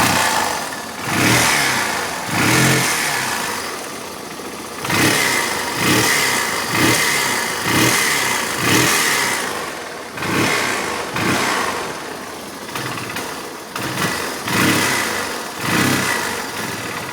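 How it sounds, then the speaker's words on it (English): Up close, a Yamaha BW200 Big Wheel motorcycle engine repeatedly revs up and sags back, bogging and chugging at a held RPM in a steady cycle of loud bursts. "Still bogging out there if I hold it at a certain RPM"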